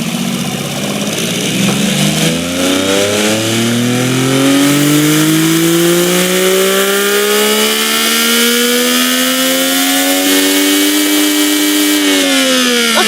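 A three-cylinder supercar engine in a video game revs up steadily toward 12,000 RPM, a loud, raspy buzzing drone whose pitch climbs continuously over many seconds before dropping off near the end, with no voices.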